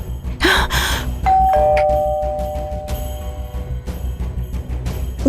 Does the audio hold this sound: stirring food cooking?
no